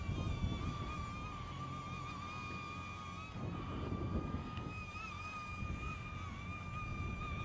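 A DJI Neo drone climbs in strong wind, its high steady propeller whine holding several tones over heavy, rumbling wind buffeting on the microphone that swells and eases throughout.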